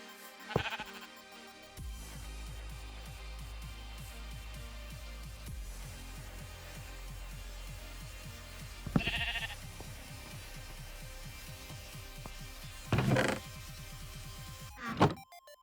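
Sheep bleating in Minecraft's Stoneblock 3 modpack, a few short loud bleats spaced across the clip: one near the start, then separate calls in the middle and near the end, over a steady low game drone with quick repeated ticking.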